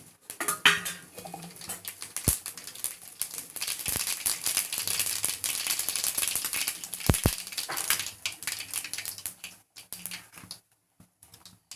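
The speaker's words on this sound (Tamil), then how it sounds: "நான் கடுகு தாளிக்கிறேன்." Mustard seeds crackling and sputtering in hot oil for egg gravy, a dense, continuous patter of tiny pops with occasional sharper clinks, close by, then fading.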